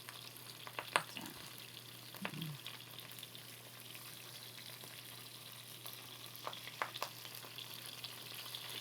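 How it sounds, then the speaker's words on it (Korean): Dried pollack sizzles faintly in hot oil in a pan, a soft, steady frying hiss with a few light clinks of utensils. "기름이 짜그르르 소리가 날 수 있을 만큼 달궈서"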